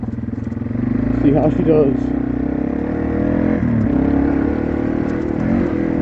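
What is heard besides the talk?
Yamaha TW200 motorcycle riding a lap of a dirt track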